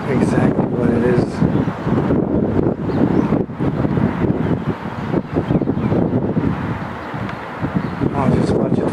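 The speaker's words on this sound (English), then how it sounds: "It's windy out today," Strong wind buffeting the microphone, a constant roaring rumble with uneven gusts throughout, close and loud.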